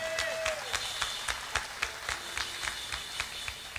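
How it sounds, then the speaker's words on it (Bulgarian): An audience claps in applause, a fairly sparse, uneven patter of hand claps with a few louder individual claps standing out, heard at moderate distance in a hall. "Трябваше много повече да пляскате между другото за това нещо."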